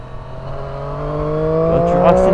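Triumph Street Triple 765 R motorcycle engine pulling steadily and building revs, a smooth droning tone rising in pitch and loudness over a couple of seconds, close and continuous.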